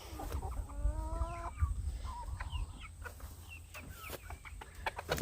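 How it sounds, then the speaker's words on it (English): Several chickens cluck and squawk near a farm setting, with one clear stretched cackle early on and scattered short clucks over steady outdoor background noise. "Come on, chicken bird."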